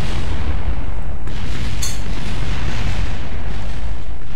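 A massive explosion of an MK3 liquid fuselage in Kerbal Space Program, a very loud continuous roaring blast that rumbles on without letup, with no voices.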